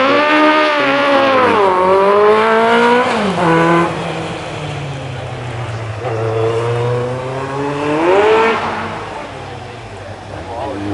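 A racing special accelerates on a sprint course, its engine note climbing through gears, dropping briefly, then winding up again, loud and fairly close, with commentary voices over it.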